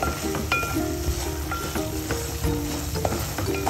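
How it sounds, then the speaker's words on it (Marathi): Semolina prasad roasting in a pan until golden brown, a steady close sizzle and frying crackle with occasional light metallic clinks of stirring throughout. "छान आपण बदामी कलरवर, सोनेरी कलरवर भाजून घेऊया।"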